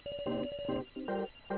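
A phone rings in the video game Your Turn To Die, with repeated electronic ringtone bursts in a steady pattern that stays loud and close, with no voices over it.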